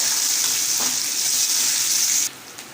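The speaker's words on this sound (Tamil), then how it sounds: "எல்லாமே தாளிச்சு ரெடியாகட்டும்" Ginger, chilies and curry leaves tempering in hot oil for a traditional Tamil tiffin dish, a loud continuous sizzle close up that cuts off sharply near the end.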